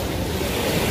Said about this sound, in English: It's a beach.